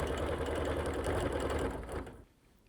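A sewing machine stitching a quilt along a seam, a fast steady mechanical whirr with rhythmic needle clatter, close and even, then slowing and stopping near the end.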